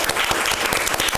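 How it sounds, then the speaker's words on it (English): An audience gives panelists a dense, steady round of applause, many hands clapping at once, loud and continuous throughout. "with a big round of applause"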